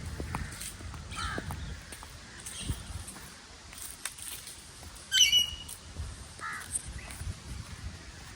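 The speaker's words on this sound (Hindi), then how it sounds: "अब हम आपको दिखाएंगे जी ग्रीन पैरट तोते। देखा आवाज़ आ रही है ना" Green parrots call in a park with fruiting trees. A few harsh, scattered squawks sound at moderate distance, one sharper and louder cry stands out, and soft outdoor ambience with light footsteps runs between them.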